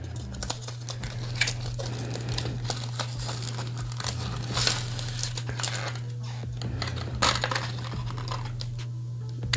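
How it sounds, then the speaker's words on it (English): Crinkling and tearing of screen protector packaging for a Samsung Galaxy A15 5G matte anti-glare protector, ripped open by hand, close and continuous with scattered sharp rustles over a steady low hum. "I'm just going to go ahead and rip this open."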